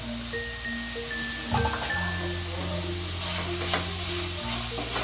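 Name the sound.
tomatoes sautéing in pan for mushroom biryani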